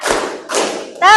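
Schoolchildren in an Islamic junior high fiqh class clap together during an ice-breaking counting game: two loud, crisp group claps half a second apart, then a voice calls out briefly at the end.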